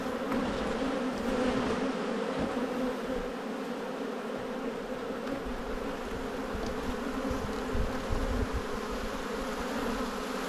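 Honey bees festooning inside a hive give off a continuous close, even buzzing drone with no talk over it.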